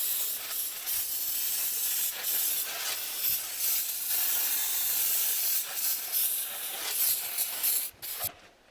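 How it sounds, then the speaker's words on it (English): WD-40 water displacement spray hissing onto an off-road vehicle's engine, with distributor cap and coil being coated, in several continuous close bursts with brief pauses, ending in clicks. "water displacement spray, so WD-40, something equivalent to that"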